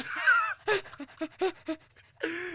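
A voice imitates wheezy, asthmatic breathing: a long strained inhale, then a series of short raspy gasping pants, then another drawn-out wheeze.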